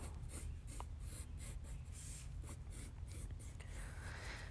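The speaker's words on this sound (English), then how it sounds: "I'm going to draw my first cacti." Pencil drawing a cactus onto paper for an Aztec-inspired vessel design, a soft continuous scratchy rasp of graphite strokes with brief pauses, close and quiet under a steady low background hum.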